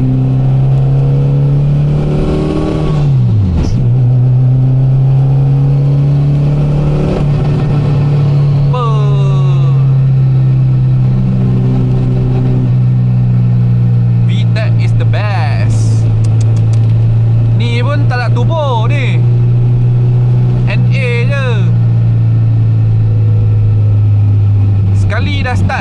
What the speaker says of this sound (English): Tekan minyak kuat sikit.